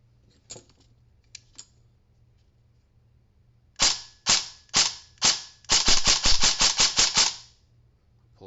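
A VFC BCM MCMR airsoft rifle on a half-charged 11.1 V Li-ion battery fires a few faint early clicks, then four sharp separate semi-auto shots, then a fast full-auto burst of about eight rounds, close and loud in a quiet room.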